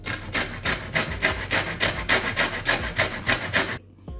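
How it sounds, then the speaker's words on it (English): Lemons rubbed against a hand grater for a no-bake lemon cheesecake, producing a steady run of about a dozen close, rasping scrapes in even back-and-forth strokes that stop abruptly near the end, with no talking. "So we're going to grate the lemons now."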